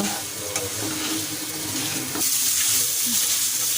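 Boiled filling being fried with spices in a pan for chicken ring samosas, a steady close sizzle with light stirring scrapes running throughout.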